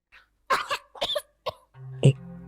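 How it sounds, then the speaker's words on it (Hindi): A person coughs several times in quick, dry bursts close up, ending with a harsher throat-clearing hack over a faint background tone. "आपको खांसी कब से हो रही है?"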